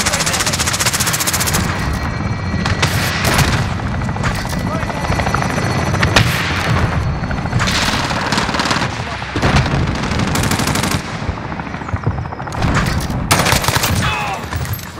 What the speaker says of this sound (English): Chopper gunner on overboard.